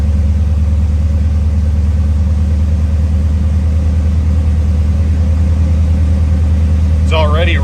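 A cold 1982 Chevrolet Corvette C3 engine idles around 1,000 rpm after an ECM swap, a steady close low hum with a slight rumble throughout, and a brief voice speaks near the end.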